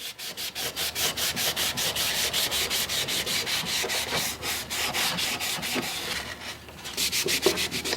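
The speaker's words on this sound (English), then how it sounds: "making sure to scrub all over it in the direction of the grain" An antique wooden tongue plane, roughly 190 years old, being scrubbed back and forth along the grain, giving a steady, close, rhythmic rasping rub with regular strokes throughout and no voices.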